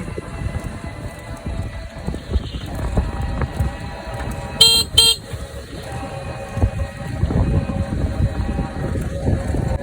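Riding in an auto-rickshaw through street traffic: a rumbling engine and road noise run throughout, and a short pair of vehicle horn honks sounds about halfway through.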